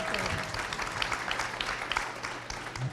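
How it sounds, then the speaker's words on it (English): An audience applauds at a community event on homelessness in Seminole County, a dense, steady patter of clapping that fills the whole stretch at moderate volume. "let's give a nice round of applause for everybody"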